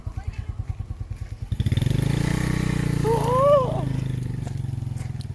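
A motorcycle climbs a dirt trail toward a waterfall, its engine thumping in a steady pulsing beat that swells into a louder, continuous drone, close by, with a brief high squeal partway through and people talking nearby.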